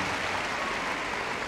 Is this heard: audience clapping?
yes